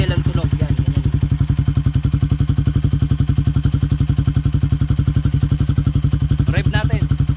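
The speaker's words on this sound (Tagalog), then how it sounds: "Naka-silencer, idle ang tunog." A Yamaha Sniper 150 motorcycle with a Yoshimura Alpha exhaust and silencer idles steadily up close, its muffled exhaust putting out a low, even, rapid thumping pulse with no revving.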